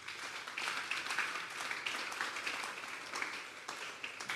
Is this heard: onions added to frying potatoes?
no